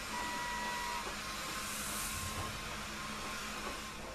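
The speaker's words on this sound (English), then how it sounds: "let me get the hair dryer" A hair dryer in a puzzle video game gives a steady, even whirring hiss with a faint tonal hum, constant and moderately quiet throughout.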